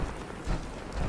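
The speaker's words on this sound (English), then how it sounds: "I love the detail of the rain on the power armor suit." Rain pattering on a suit of power armor in the Fallout 4 video game, a steady broadband hiss with dull low thumps and rumbles swelling twice, as if thunder rolls underneath.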